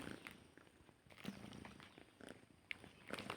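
A cat purrs softly and steadily close by, low and faint in an otherwise quiet room.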